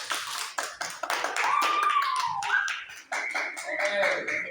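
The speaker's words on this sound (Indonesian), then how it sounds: "Aplaus untuk teman kalian." A classroom of students applauds a classmate, with brisk, scattered hand claps running steadily for several seconds while someone whistles or vocalizes a sliding tone over them.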